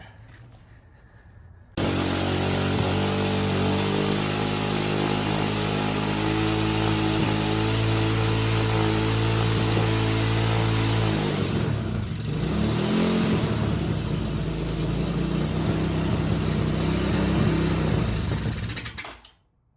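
A motorcycle that would not start finally fires up and runs, settling into a loud, steady, close idle with a brief dip and stumble before evening out, then cutting off at the end.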